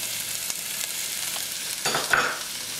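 Onions and celery sauté in a tablespoon of olive oil, a bright steady sizzle with occasional stirring scrapes in the pan, close and continuous, with no voices.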